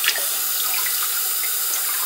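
Tap water running steadily into a plastic bottle, filling it close to full for bottle flipping, as a loud, continuous rushing hiss with slight gurgling and no speech.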